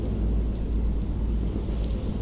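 A low, continuous thunderstorm rumble with wind and sea noise in the video game The Dark Pictures: Man of Medan, a heavy, steady bass-rich roar with no talking over it.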